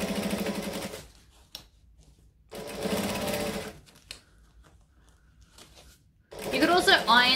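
A sewing machine stitches the fabric of a bag in three loud, whirring bursts of about a second or more each, separated by quiet pauses with faint handling.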